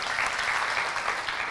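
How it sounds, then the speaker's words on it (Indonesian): Congregation clapping steadily in a church service, a dense, sustained wash of many hands with no gaps, filling the space throughout. "Tepuk tangan bagi Allah kita"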